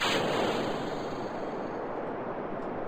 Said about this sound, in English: Systems 3, 2, 1, make rocket go now.